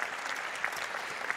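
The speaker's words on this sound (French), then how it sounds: "Alors, on peut les applaudir encore collectivement." Audience applause at a Cit'ergie label award ceremony, a dense steady round of clapping from a crowd with no voices over it.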